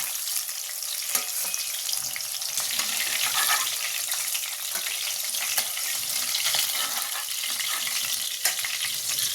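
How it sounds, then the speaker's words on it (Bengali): Hilsa fish pieces frying in hot oil give a steady, loud crackling sizzle with scattered sharper pops, continuous throughout with no voices. "এইভাবে ঠিক বাকি মাছগুলো আমি ভেজে নেব"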